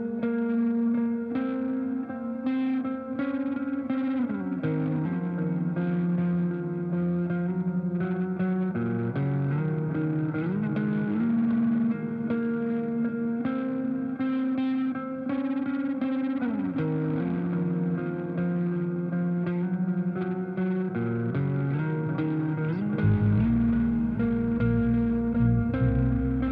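An effects-laden distorted electric guitar plays a slow, sustained melody, drenched in chorus, echo and reverb, with a low heavy chord entering near the end; there are no voices.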